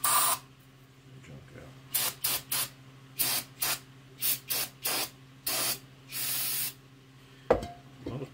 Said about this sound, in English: I'll spray grit out.